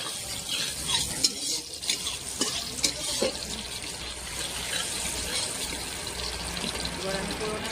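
Oil sizzling in a pan while ingredients are stirred, with clattering scrapes early on settling into a steady frying hiss; voices can be heard in the background.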